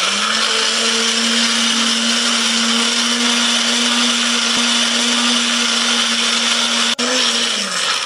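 A blender grinds garlic, shallots and curly chilies with a little water, running as a loud, steady whine throughout with a slight pitch drop near the end.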